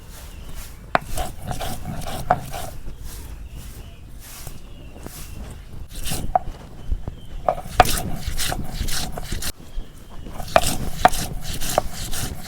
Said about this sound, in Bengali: এখন আমি পেঁয়াজ কুচি করে নিম